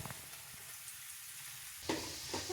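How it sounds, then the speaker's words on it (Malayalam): Onion, ginger, garlic, green chilli and crushed fennel sautéing in a pan, a soft steady sizzle that flares louder near the end as a spoon stirs and scrapes. "ഉള്ളി നന്നായി വഴറ്റി വന്നിരിക്കുന്നത് അതിലേക്ക് നമ്മൾ ഇഞ്ചി, വെളുത്തുള്ളി, പച്ചമുളക്, പെരുംജീരകം, അതായത് വലിയ ജീരകം ചതച്ചതും കൂടി ഇട്ട് കൊടുക്കുക."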